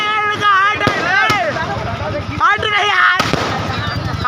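Firecrackers burst in sharp, loud cracks at a street celebration of Mamata Banerjee becoming chief minister, a few sudden bangs amid whistling and a crowd talking all around.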